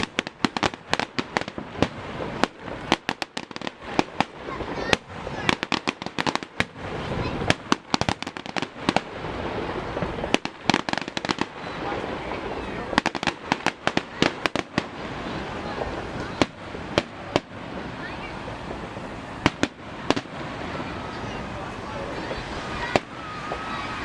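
Fireworks burst in rapid, irregular volleys at a Fourth of July ballpark show, loud cracks and booms rolling over a steady crowd murmur for a long stretch, with people talking now and then.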